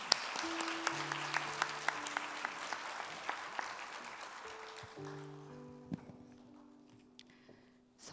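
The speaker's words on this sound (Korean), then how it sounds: "박수로 환영합니다." A church congregation applauds in welcome at a testimony service, a dense wash of clapping that fades over several seconds, with a few low sustained tones underneath and a burst at the very end.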